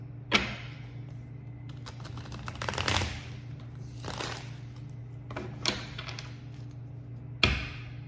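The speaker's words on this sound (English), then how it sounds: "let me give this a few shuffles before we dive in" An oracle card deck shuffled by hand in several separate bursts, crisp riffling and flicking sounds spaced across a quiet room with a steady low hum underneath.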